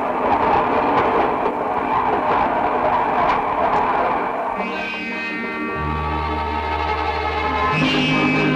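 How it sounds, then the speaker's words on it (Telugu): A departing train in a Telugu feature film scene: a steady, rushing rumble gives way to long sustained horn-like tones near the end, with no speech. "బండి బయలుదేరుతుంటుంది"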